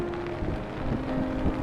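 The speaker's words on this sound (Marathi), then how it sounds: "वारा आता सुटायला लागलेला आहे बघा." Wind blowing at a stormy seashore buffets the microphone in a steady low rumble with gusty swells, and no one speaks.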